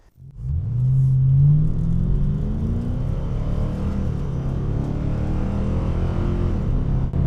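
A black American muscle car rumbles while being driven, a deep steady engine drone with a brief rising rev near the start, close and continuous with no talking.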